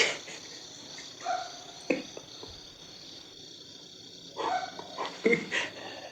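Faint, distant dog barks come in scattered bursts over a steady chorus of crickets, with a few short yips near the end.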